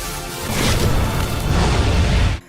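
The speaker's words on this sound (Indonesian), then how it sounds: "membuat ledakan yang sangat hebat" A single powerful explosion erupts in a dense, roaring burst that sustains for about two seconds before cutting off abruptly.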